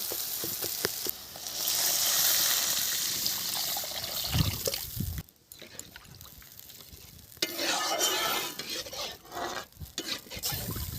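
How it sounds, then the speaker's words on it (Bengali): Water poured into a sizzling spice paste for duck egg curry: a loud hiss and bubbling burst, then a lull, then renewed spattering and stirring scrapes, close by and without speech. "এবারে আমি জল দিয়ে দেব"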